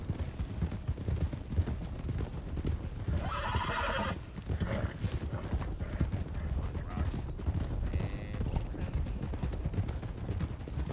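Steady clip-clop of hooves with a horse neighing and whinnying, set against a dense game soundscape and mechanical whirring, with talk mixed in.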